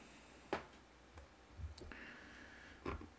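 Mouse clicks on staking buttons of a crypto website: a few sharp, isolated clicks spaced irregularly over a quiet background.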